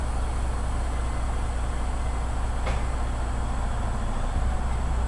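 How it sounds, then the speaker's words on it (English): A truck idles steadily during an air brake test as the clutch is slowly let out with the parking brake set, a constant low rumble throughout, broken by one brief sharp hiss partway through. "Now, I would release the clutch slowly. I would feel a slight tug, but my vehicle should not move."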